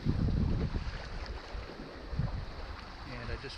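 Wind blowing across a sailboat out on Lake Michigan as the breeze fills in: a continuous broadband rush with gusty swells and low rumble, close and fairly steady, with no voices.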